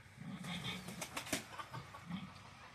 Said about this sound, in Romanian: Deci găinile astea așa zboară pe aici.